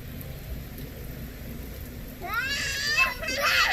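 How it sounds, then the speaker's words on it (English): Steady rain patters on a surface outdoors, a constant even hiss. High children's voices join in near the end. "Go ahead, you can stay playing in the rain."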